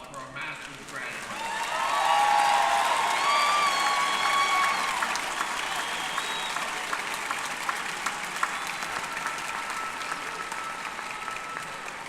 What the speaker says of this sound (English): How about a big round of applause for our master's graduates?